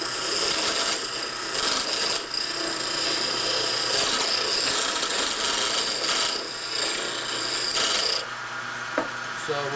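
A wooden piece spins on a lathe while a tool rounds it off, making a continuous raspy scraping hiss that swells and fades in pulses and stops near the end.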